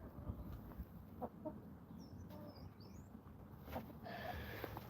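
Leghorn hen clucking faintly among other barnyard chickens, with a few short chirpy calls over steady background noise and no talk.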